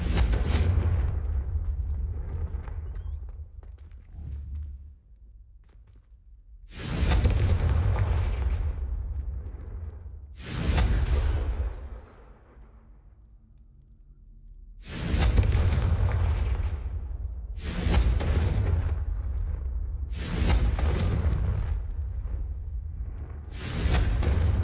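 Fire-blast spell explosions from the Hogwarts Legacy video game burst out as a series of about six loud, booming blasts, each followed by a rumbling decay, with short quieter gaps between them.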